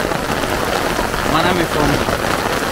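Heavy rain falls in a steady, loud hiss of dense drops on surfaces, continuous throughout, with a person speaking briefly over it.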